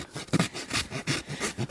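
A farrier's rasp files the sharp edge on the right side of a horse hoof with quick, rhythmic, gritty strokes, steady and close, with no voices.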